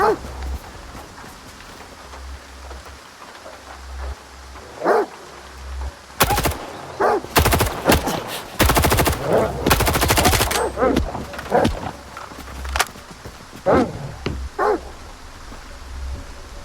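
In the video game STALKER 2, dogs bark amid bursts of automatic gunfire inside a factory building, with loud rapid volleys mixed with repeated barks and someone talking intermittently.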